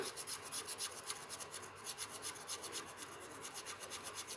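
Repeated rhythmic rasping of an Illiko lottery scratch card being scratched, a steady close-up scraping that keeps going with no talk.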